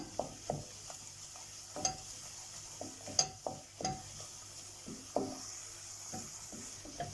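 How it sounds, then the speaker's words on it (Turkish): Flour roasting in oil in a pot for a milk pudding, stirred continuously: a steady soft sizzle with repeated scraping strokes of the spoon against the pot, close by and with no talking. "bir güzel kavuralım. Sürekli karıştıralım."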